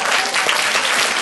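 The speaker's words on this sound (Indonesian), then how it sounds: "Tepuk tangan buat Tuhan." A church congregation clapping together during a sermon, a dense, close burst of applause filling the whole short moment.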